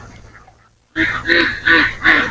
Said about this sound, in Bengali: এই সাইডেও কিছু হাঁস আছে এটা হাঁসের খামার